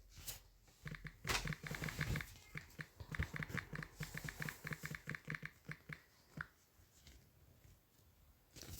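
Random typing on a computer keyboard produces quick, irregular bursts of soft key clicks, close but faint, with short pauses between the runs.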